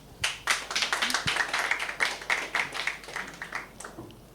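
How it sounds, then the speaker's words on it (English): Scattered, fairly thin clapping from a small group, a steady patter of hand claps that holds for a few seconds before tapering off. "Give them a round of applause"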